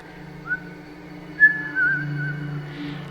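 A person whistles a few soft, breathy tones close by, a short rising note followed by a longer sustained whistle over a low steady hum, with no talking.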